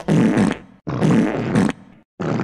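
A comedic fart sound effect used in a cartoon-style skit, three loud, close, buzzing blasts separated by short gaps, with no speech over them.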